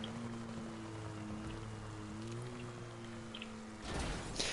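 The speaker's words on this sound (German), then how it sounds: "Es regnet immer noch, wenn die Sonne da ist." Rain falling in GTA 5 Online, a steady faint hiss of drops under a low droning engine hum, with a brief louder wash near the end.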